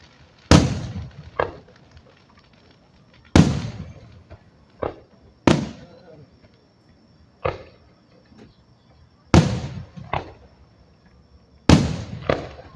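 Fourth of July fireworks in Pflugerville burst one after another, each a sharp, loud bang followed by crackling decay, spaced a few seconds apart at mid distance, with smaller pops in between and no talking.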